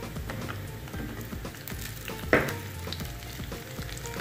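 Onion frying in a pan, a steady close sizzle with faint crackles and one sharp utensil clink partway through; no voices.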